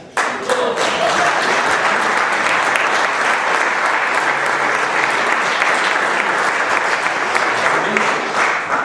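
An audience at a German dialect poetry reading claps in loud, sustained applause that fills the room evenly for several seconds with no speech over it.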